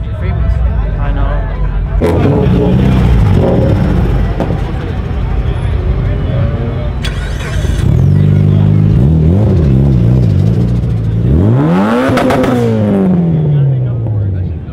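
Car engines rev loudly and repeatedly at a magazine car meet with drifting, rising and falling pitch sweeps in bursts over a constant crowd babble and people talking nearby.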